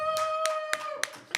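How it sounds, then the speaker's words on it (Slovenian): A handful of separate, sharp hand claps ring out at a concert, spaced roughly evenly over a held musical tone. "Pa Alena prosim za aplavz."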